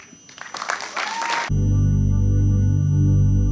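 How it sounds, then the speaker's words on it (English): A theatre audience gives a brief burst of clapping to welcome a set of dramatic monologues, quickly cut off by a loud, sustained musical drone with steady low tones. "let's give a huge round of applause to welcome 6 dramatic monologues"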